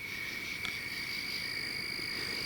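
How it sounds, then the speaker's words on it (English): A big toad croaking at night in Pennsylvania woods, a single brief croak near the start against a steady, loud chorus of insects and crickets, with no talk. "It's a big frog. Toad. Big toad."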